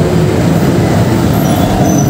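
An LRT-1 train runs along the turn back guideway near Trinoma, giving a loud, steady rumble of wheels on rail with faint high squeal, continuous and close.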